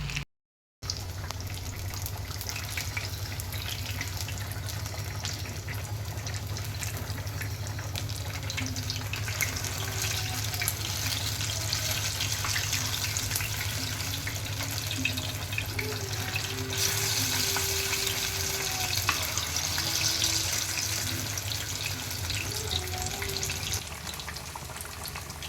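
Fish pieces fry in a pan over a low flame, giving a steady, even sizzle that runs close and continuous for the whole stretch, with no talk.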